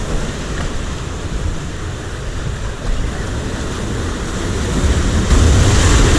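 Ocean waves break and wash along a Central American shore at a fishing spot. A steady, loud roar mixes with wind buffeting the microphone and swells toward the end, with no talking.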